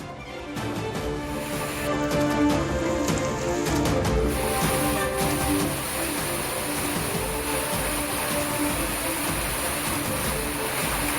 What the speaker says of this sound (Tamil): புதுச்சேரி நகர் பகுதிகளை குளிர்வித்த திடீர் மழை